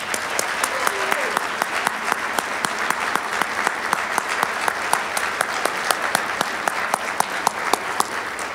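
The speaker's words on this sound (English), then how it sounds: "let us thank you with our applause" A crowd at a YWCA Women of Excellence awards program applauds the staff, sustained even clapping from many people with a few sharp, close hand claps standing out and some murmured voices underneath.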